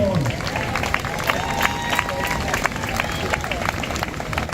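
Outdoor roadside political rally crowd applauding and cheering, a steady dense wash of clapping mixed with crowd babble and a whistle or shout, fairly close and continuous throughout.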